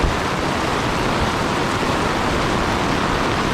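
Heavy tropical storm rain pouring down on a flooded street in Jaco, Costa Rica, a dense, unbroken roar of water spread evenly and loud throughout, with no voices.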